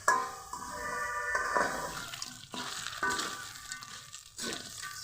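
Crab pieces sizzle and crackle loudly in hot oil, with the frying noise surging in bursts as pieces are stirred or turned.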